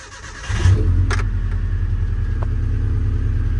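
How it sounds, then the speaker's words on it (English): A truck engine cranks and fires after a new distributor and spark plugs are fitted, then settles into a steady, loud idle nearby. A faint metallic tick or two sounds over the running engine. "we are going to start the truck up just to test the new parts"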